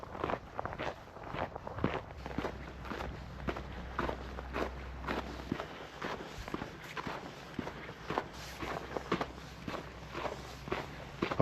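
Footsteps crunch through snow on an early-morning uphill walk, a steady close rhythm of soft, crisp steps continuing throughout under a faint low hum, with no talking.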